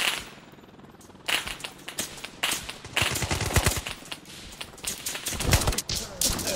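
Rapid bursts of automatic gunfire in the video game Operator, loud and close after a quieter opening, firing in repeated volleys while the player walks.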